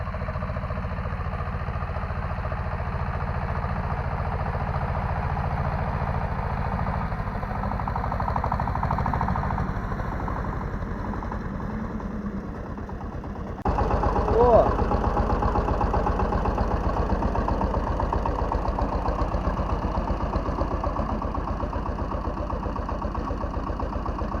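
A tractor engine runs steadily in low third gear while pulling a row-crop cultivator fitted with hedgehog weeders through hard, concrete-like field soil, droning loud and close, with a sudden jump in loudness midway through.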